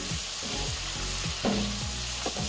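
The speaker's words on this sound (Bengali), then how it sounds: "এবারে এতে দিচ্ছি ভেজে রাখা আলু" Fried potatoes tipped into a pan of hot spice masala for a Bengali pangash fish curry, giving a steady loud sizzle with a sharp burst of spitting and scraping as they land, followed by stirring clatter, no voices.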